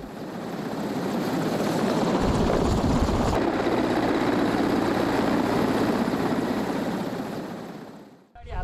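A Royal Nepal Army helicopter's rotor and engine roar loudly and steadily, swelling as it draws near, then fading away at the end.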